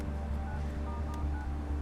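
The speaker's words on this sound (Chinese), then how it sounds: "还是得打电话问一问。" A telephone number is dialed, a quick run of short electronic key tones over a low background rumble, close and fairly clear.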